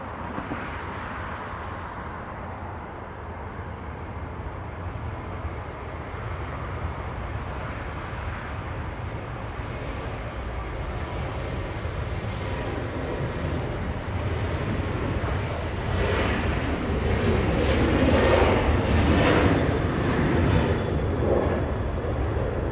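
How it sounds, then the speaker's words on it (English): Delta Airlines jet departing Los Angeles International Airport for Las Vegas, a broad, steady engine roar that swells gradually louder toward the end, heard from a distance with no talk. "We have a departure, Delta Airlines flying to Vegas"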